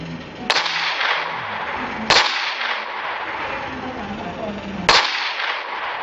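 Three sharp gunshots from a gun mod in Minecraft PE, each a loud crack with a short fading tail, spaced a couple of seconds apart over a faint background hum.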